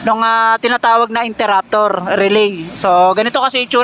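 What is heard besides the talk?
No distinct noise like a dog, phone or traffic.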